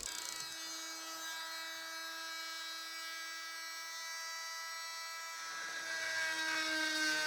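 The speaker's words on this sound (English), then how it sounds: "I take the oscillating tool, I call it the chopper" A high-pitched whining oscillating tool runs steadily cutting fiberglass on a boat's toe rail, its tone shifting slightly as it cuts, fairly close and without talk.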